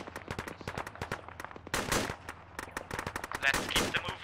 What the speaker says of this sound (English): Keep up the suppressing fire.